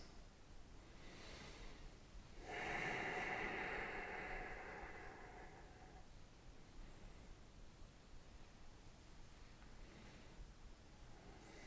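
A single long, soft breath during a standing desk yoga hamstring stretch in a home office, a gentle airy rush lasting a few seconds, close but faint against quiet room noise.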